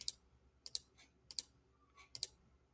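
Keys pressed on a calculator keypad while entering algebra expressions, giving a few separate sharp clicks in small clusters, close and fairly quiet with no talking.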